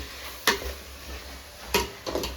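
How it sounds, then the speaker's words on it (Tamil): Mint leaves sautéed in a pan for chicken dum biryani, stirred with three distinct scraping strokes over a faint sizzle and low background hum, close and fairly loud. "புதினாவை வந்து போட்டாச்சு வந்து நல்லா வதக்கிக்கலாம்"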